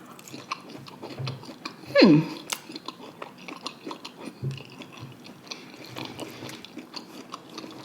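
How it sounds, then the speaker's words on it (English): Roasted Brussels sprouts being chewed close to the mic, with one loud crunchy bite followed by softer, irregular chewing and mouth sounds, with no talking. "I'm gonna try these Brussels sprouts"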